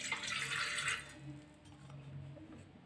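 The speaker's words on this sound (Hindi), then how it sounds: "चाशनी बनाने के लिए हमने 1 गिलास पानी लिया है" A glass of water is poured into a pan for making gulab jamun sugar syrup, a brief soft splashing rush at the start that quickly fades into quiet room sound.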